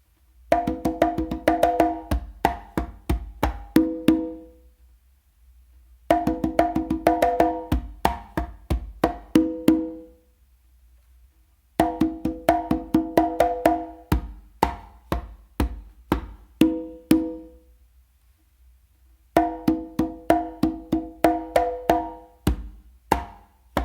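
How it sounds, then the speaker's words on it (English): Conga drum pattern played alone in four rhythmic phrases separated by short pauses, mixing open tones and slaps, close and clear. "So to play it all the way through, just on the conga, it's gonna sound like this."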